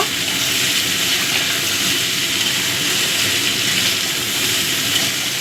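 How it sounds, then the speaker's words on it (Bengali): Vegetables fry steadily in a pan for a bitter gourd, potato and pumpkin stir-fry, giving a continuous, even hiss and crackle at moderate loudness with no one speaking. "এবার এগুলো দিয়েও একটু ভেজে নেব"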